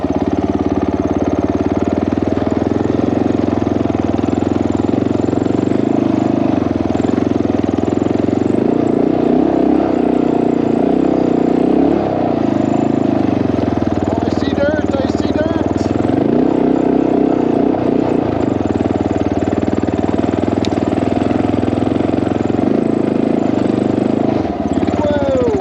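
Honda XR650L dual-sport motorcycle climbing a steep hill on a cold winter ride: a loud, continuous single-cylinder engine drone that rises and falls with throttle, heard close up with wind buffeting throughout.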